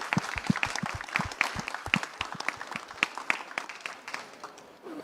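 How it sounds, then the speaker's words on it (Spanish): Modest audience applause at a COP25 session on Mesoamerica's forests, a fairly sparse, quiet patter of individual claps spread across five seconds, some hands standing out sharply, with faint voices in the background. "eso también merece un aplauso adicional"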